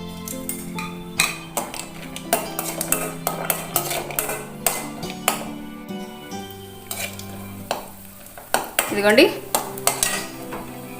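Cashews fry in hot ghee in a pan, a gentle sizzle mixed with frequent metallic clinks and scrapes of a spoon against the pan, while a voice speaks briefly.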